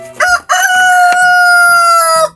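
A bantam rooster crows one loud, close, drawn-out call lasting about two seconds, with brief clucks before it and low clucking underneath.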